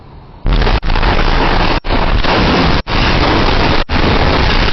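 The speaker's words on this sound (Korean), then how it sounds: "이 영상은 베이루트 항구 폭발 당시 근처 도로에서 촬영된 영상이야" Beirut port explosion captured from a nearby road: loud, saturated roaring blast noise that starts abruptly and persists, broken by several brief dropouts, overwhelming and close.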